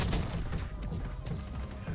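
Gunfire in the video game Call of Duty Black Ops 6 with a GRAU 5.56 rifle at a hardpoint, dense bursts of sharp shots and impacts layered with game effects, loud and continuous across the moment.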